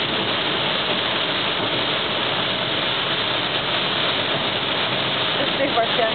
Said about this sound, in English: Yeah, a lot of rain.